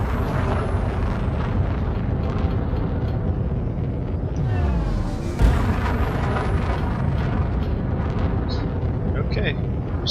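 A spaceship boosting in the game Elite Dangerous gives a deep, continuous engine rumble that swells into a sharp whooshing surge midway, then settles back into a steady roar.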